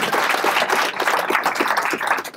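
A room full of people gives a dense, steady round of applause for Junie, the venue's owner, sustained and fairly close throughout.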